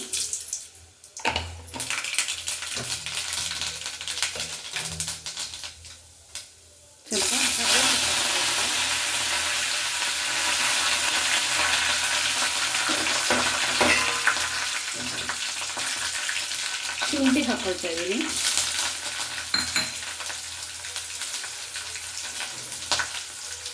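Mustard seeds hit hot oil with a sudden loud, steady sizzling and crackling that continues for many seconds, after a quieter start with clattering and a voice talking.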